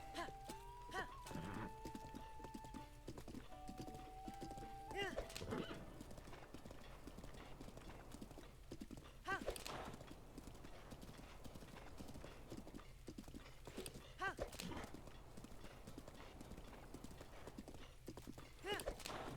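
A horse gallops in The Legend of Zelda: Breath of the Wild with rapid, rhythmic hoofbeats throughout, along with occasional snorts and faint game sounds in the background.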